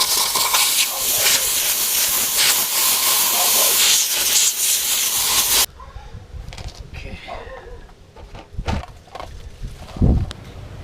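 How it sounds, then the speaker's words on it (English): Compressed air blasts loudly through an oil filter housing on a 2006 VW Touareg 3.2L VR6, a steady hiss for several seconds that cuts off abruptly, followed by quieter clanks and handling noises. "we'll get the air on and clean this out first"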